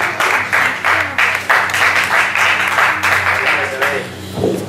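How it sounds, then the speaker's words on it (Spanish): Audience at a rally team presentation claps in rhythmic, pulsing waves, fairly loud and close, with some voices under the clapping before it tapers off. "Fuerte aplauso, por favor"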